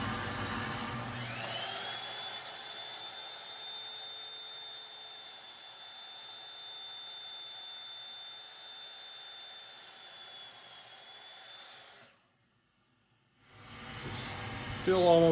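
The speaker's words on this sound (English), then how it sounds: "Turn on the dust collector." A workshop dust collector runs with a steady whine and airy roar, holding level for several seconds before cutting out abruptly, then other shop noise returns.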